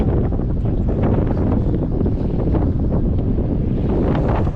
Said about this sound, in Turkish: bu dibimizde de hemen bir tane balıkçı teknesi